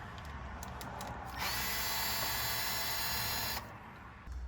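A weakening cordless power tool gun spins off bolts on a Suzuki M109R stator cover in the cold, giving one sustained high whine of about two seconds, preceded by short bursts and followed by a brief pause and restart, close by.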